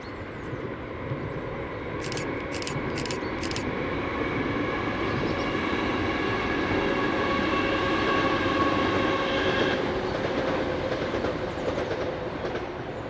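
A ScotRail Class 318 electric train crosses the Motherwell viaduct, making a loud, sustained rumble with a rising electric whine and rhythmic wheel clatter. A few brief clicks are heard near the start.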